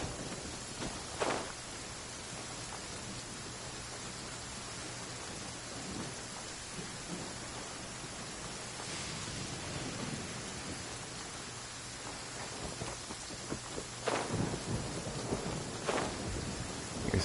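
Steady rain hissing and pattering in Genshin Impact's Mondstadt, with low rumbles of thunder rolling in at intervals and a louder crack near the end, heard alone at a soft, even level.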